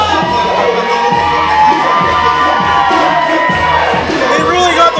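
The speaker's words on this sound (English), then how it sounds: "They really got the crowd riled up." A crowd at a wrestling-style fight show cheers and shouts continuously and loudly, with rhythmic pulsing chants and children's voices mixed into the roar.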